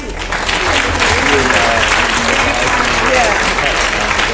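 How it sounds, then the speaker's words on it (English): Sustained audience applause at a Sacramento County sheriff candidates debate, a dense roomful of clapping held steadily throughout with some crowd voices mixed in. "give one more round of applause to the community leaders who spoke earlier"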